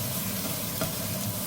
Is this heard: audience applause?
no